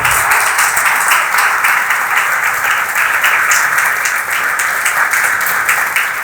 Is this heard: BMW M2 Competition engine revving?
no